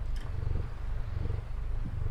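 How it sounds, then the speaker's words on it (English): Gertie the cat purrs very loudly and close to the microphone, a deep, rhythmic rumbling that pulses steadily with her breathing. "she has the loudest purr I think I've ever heard on a cat"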